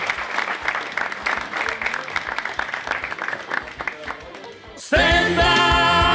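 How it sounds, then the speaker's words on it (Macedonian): A stand-up comedy audience breaks into sustained applause, dense clapping and crowd noise that keeps going for several seconds before cutting off abruptly into loud music. "Дајте да аплауз да се напијаме."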